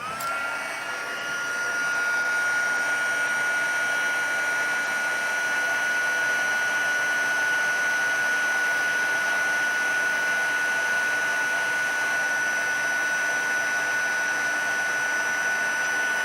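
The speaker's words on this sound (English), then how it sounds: "grab my heat tool" A handheld heat tool blows hot air steadily onto embossing powder on a card, a constant whirring blast with a high whine that runs close and loud for the full stretch without a break.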